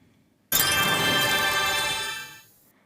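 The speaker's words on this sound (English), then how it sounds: "So I added some layers of glockenspiel and sped up a bell chime run." A bright shimmering chime effect built from layered glockenspiel and a sped-up bell run, struck suddenly and ringing loud and sustained for about two seconds before fading out, alone in silence.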